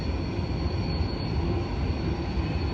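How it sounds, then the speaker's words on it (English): A train rolls through a canyon, giving a loud, continuous rumbling roar of wheels and cars that stays close and steady throughout, with no speech. "Kind of cool to see a train going through this canyon."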